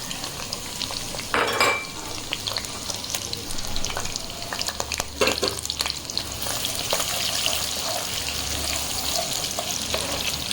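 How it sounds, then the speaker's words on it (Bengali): Onion sizzles and fries in hot oil for a mutton paya dish, a steady crackling hiss with occasional stirring scrapes and clatter nearby. "পেঁয়াজটা একটু লালভাবে ভাজবো।"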